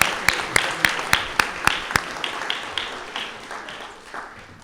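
Award ceremony audience clapping for a winner, a burst of sharp individual claps at first that thins and fades over several seconds, moderately loud with no talking over it.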